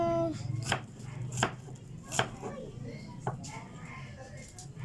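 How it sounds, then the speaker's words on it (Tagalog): An onion being chopped with a knife, several sharp knocks on a board at an uneven pace, close up, with a voice talking at the start. "Naghihiwa na. Sibuyas."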